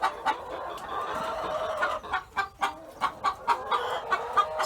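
Hens cluck repeatedly inside a chicken coop, a steady close series of short calls with no talking.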